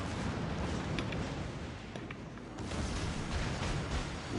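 Torpedo hits in World of Warships Legends, heavy muffled explosion booms over a dense, continuous roar of battle noise, with a few sharper bursts standing out.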